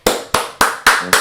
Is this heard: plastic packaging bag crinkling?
no